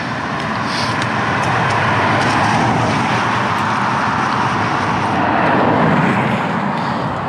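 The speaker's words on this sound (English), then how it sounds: "Traffic." Road traffic passes through Middleton-in-Teesdale in constant rain, a loud continuous rush of tyres and engines on wet road with no clear gaps between vehicles.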